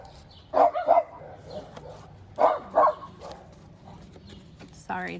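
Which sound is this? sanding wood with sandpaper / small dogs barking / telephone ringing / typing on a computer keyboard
small dogs barking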